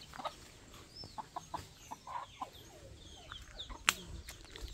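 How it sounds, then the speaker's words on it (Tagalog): Chickens in a crowded coop with brooding hens and chicks, giving scattered short clucks and calls at close range, with one sharp louder squawk near the end and no talking. "Medyo magulo dun sa manukan."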